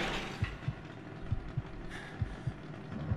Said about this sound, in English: There's a heartbeat and everything.